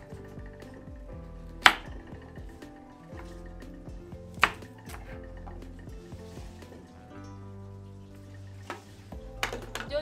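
A knife chops watermelon and carrots for juice, with a few sharp, isolated chopping strikes against a board and softer handling and squishy sounds between them, close and moderately loud with no talking.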